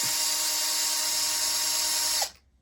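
A power tool whines steadily while backing bolts out of a seized Traxxas Revo 3.3 nitro engine, holding one high, sustained pitch for about two seconds before abruptly stopping.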